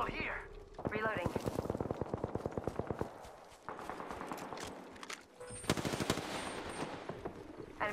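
Rapid automatic gunfire from a shooter video game, loud bursts of machine-gun fire with short pauses, mixed with a game voice calling out and other battle noises.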